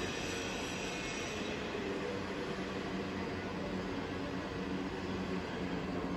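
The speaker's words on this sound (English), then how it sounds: "Working of spindle at its low speed, that is 40 rpm." A SIP Hydroptic 6 jig boring machine runs its spindle at a low 40 rpm, giving a steady, broadband mechanical whir and rumble that holds at an even level throughout with no pauses or talk.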